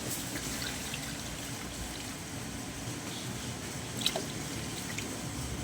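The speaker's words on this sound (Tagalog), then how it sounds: "lagyan na natin ng tubig" Water poured into a pot of meat while cooking, a steady broadband rush and trickle that continues throughout, with a faint clink partway through.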